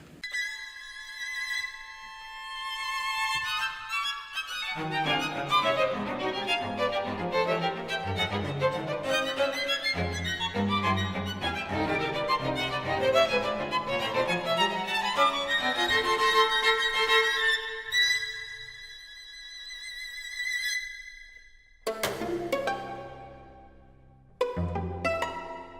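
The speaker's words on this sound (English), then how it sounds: "I decided to have the helix come back in the entire string quartet" A string quartet plays a recurring helix theme as a movement ends, bowed strings building into a dense, sustained texture before thinning to held chords and a few closing sounded notes separated by silence.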